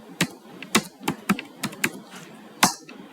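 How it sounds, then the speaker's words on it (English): Computer keyboard typing an SSH command, a handful of sharp, separate key clicks at an irregular pace, close and clear with no talk. "I'm just going to type SSH, then my username at the rate and my IP"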